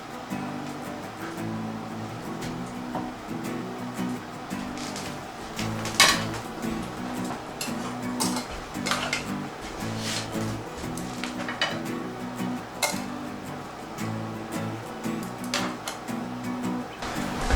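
Shrimp scampi pasta being served onto a plate, with steady close scraping and clinking of a utensil against pan and plate, occasional sharper knocks, over a constant low background hum.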